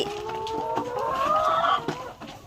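Laying hens on a farm cluck and call close by. A rising, drawn-out hen call stands out over softer clucks and light background noise, and no one speaks.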